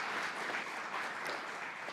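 Steady audience applause fills a city council meeting chamber in Durham, a dense, continuous clapping that stays loud and even throughout with no talk over it.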